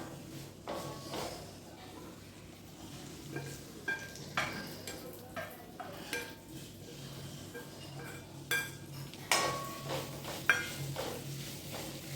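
Fried onions are stirred into chili powder sizzling in a pan for a Kerala onion theeyal curry, with a spoon scraping and clinking against the pan and a steady low frying hiss.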